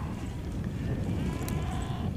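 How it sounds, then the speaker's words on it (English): Sheep bleat across a rural field, a mass of overlapping cries at moderate distance, steady and continuous without any talk. "Oh, those sheep. I reckon they're wanting some food"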